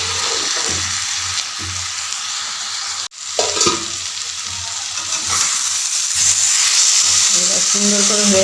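Cumin and Kashmiri chilli powder sautéing in a pan, a loud steady close sizzle with a few sharp scraping stirs, a brief break near the middle, and a voice speaking over it.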